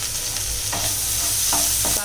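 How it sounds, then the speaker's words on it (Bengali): Ginger and garlic frying in a pan while being stirred, with a steady hiss and sizzle and a few utensil scrapes near the end, close and continuous, no talking. "তারপর দিব আমি একটু নেড়ে নিই"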